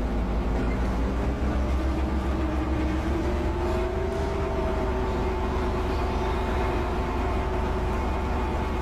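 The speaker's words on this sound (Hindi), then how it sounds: "अब ये देखें ये ट्रेन अभी जा रही है" A train departs after its engine is coupled, a steady loud rumbling drone with a low tonal hum and faint rising whine, continuous throughout with no speech.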